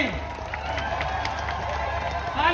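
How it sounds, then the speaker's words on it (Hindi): Rally crowd at a tribal community gathering in Khairmal, Saraipali, giving a steady wash of applause and cheering that holds fairly constant, with voices mixed in throughout. "तालियां बजती रहनी चाहिए"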